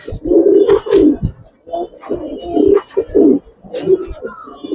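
A male pigeon at a pigeon farm coos in repeated rhythmic bursts, close and fairly loud, with someone talking intermittently between and over the calls.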